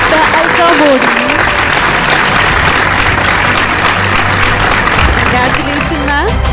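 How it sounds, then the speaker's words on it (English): Applause from an audience at a science award ceremony, steady clapping throughout for a winning doctor, with a presenter's voice speaking over it and background music. "Ladies and gentlemen, put your hands together for the award winner, Dr. Alka Modi"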